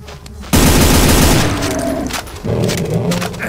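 Heavy gunfire erupts in the Doom mod SIGIL video game, a loud sudden burst of rapid blasts that keeps pounding densely, then another booming volley follows shortly after.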